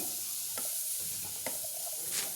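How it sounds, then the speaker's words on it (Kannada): Drained horse gram beans are stirred into spice powder frying in a pan, giving a continuous sizzle with a few close scraping stirs spaced through it. "ಅರ್ಧ ನಿಮಿಷ ಫ್ರೈ ಮಾಡಾದಮೇಲೆ ನಾವು ಸೋಸಿಟ್ಕೊಂಡಿರೋ ಅಂಥ ಕಾಳನ್ನ ಹಾಕಿ ಮಿಕ್ಸ್ ಮಾಡ್ಕೊಳ್ಳೋಣ."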